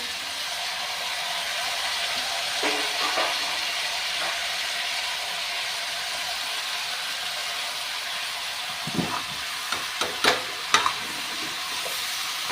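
Bell peppers stirred with potatoes and onions in a frying pan: a steady hiss of sizzling fills the scene, with a few scraping stirs of the spatula near the end.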